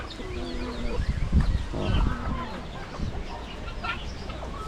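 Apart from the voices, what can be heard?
chickens and chicks clucking on a farm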